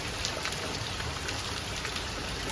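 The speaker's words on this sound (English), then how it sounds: "Okay, rain." Steady rain falls throughout during a hike on the Appalachian Trail near Mount Moosilauke, an even, dense patter of raindrops hitting surfaces close by, with no voices.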